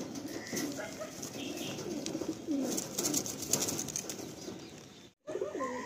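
Madrasi pigeons coo and flutter close by, soft throaty calls with bursts of wing flapping and faint chirps, then a brief clatter followed by a near silent gap.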